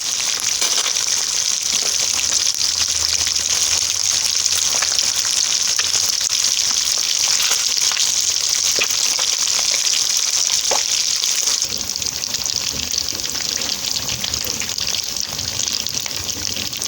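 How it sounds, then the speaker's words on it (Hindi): Fish frying in oil in a pan gives a loud, continuous, close sizzle with a steady crackling hiss throughout and no talk. "थोड़ा सा ऑयल आप ऐड कर लें कढ़ाई में या फ्राई पैन में, जिसमें आप इजीली फ्राई कर सकें फ़िश को"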